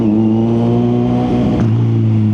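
A 2025 Kawasaki Z900 SE motorcycle engine revs loud and close with a smooth, steady drone. The pitch dips briefly midway, then holds steady.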